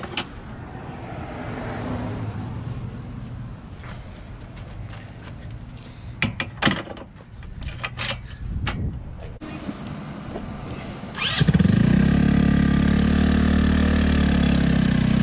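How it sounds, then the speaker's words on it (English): A go-kart engine starts after some handling clatter and knocks, then runs at a loud, steady, close idle for the last few seconds. "So we're gonna try out the go-kart."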